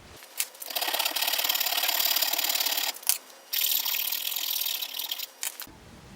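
Rasps and files scraping steadily over an aluminum and wood knife handle in long continuous bursts, a short pause near the middle, with close, dry, bright rubbing texture and no talk.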